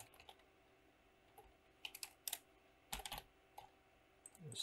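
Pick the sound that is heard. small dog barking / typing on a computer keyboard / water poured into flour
typing on a computer keyboard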